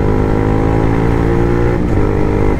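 A Yamaha MT-15 motorcycle engine revs steadily and loudly up close, a continuous mid-pitched roar with a brief dip and pickup near the end, no voices.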